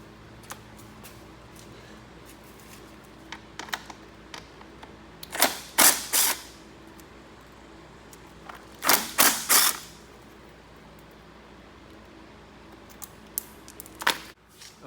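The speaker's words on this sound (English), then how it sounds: "you really need a bigger impact to take them out" A small impact wrench hammers at bolts on a YFZ 450R ATV during subframe removal, giving two loud rattling bursts about three seconds apart, with faint clicks and tool handling in a quiet garage between them.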